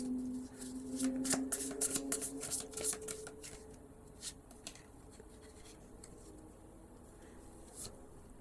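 Tarot cards shuffled by hand close up: a run of crisp riffling and flicking bursts, busiest in the first few seconds, then sparser taps and slides of the deck.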